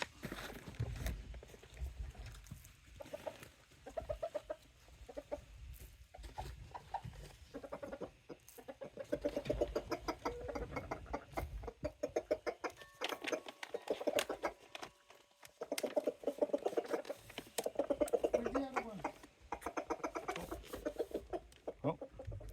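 Backyard chickens in a grain bin coop and run cluck and patter close by, irregular bursts of clucking rising and falling over about twenty seconds with no talk.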